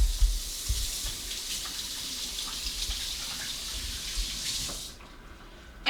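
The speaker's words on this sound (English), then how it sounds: "let me wash my hands really quick, because everything is slipping from that" Tap water runs steadily into a kitchen sink while hands are washed under it, a continuous close splashing hiss that cuts off abruptly near the end.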